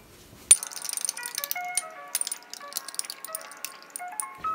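A metal spoon clinks and rattles against a glass while stirring licorice powder into milk, a sharp first tap followed by a rapid run of bright ringing clinks, close and clear without talking.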